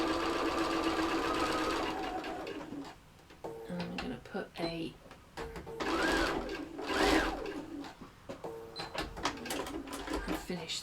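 A sewing machine stitches a curved seam on a soft toy, running in short bursts of rapid mechanical chatter with pauses between, while a person talks over it.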